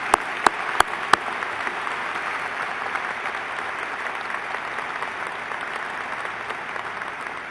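Audience applause at the Fall 2006 South Dakota State University commencement ceremony: a large crowd clapping in a steady, dense wash, with a few sharp nearby claps standing out in the opening second.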